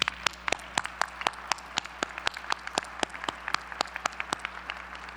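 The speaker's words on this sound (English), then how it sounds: "let's give them an applause." A small gathering applauds the Shreveport City Council and Caddo Parish Commission with sparse, distinct claps arriving at an uneven rhythm, each one sharp and close, over a low steady room hum.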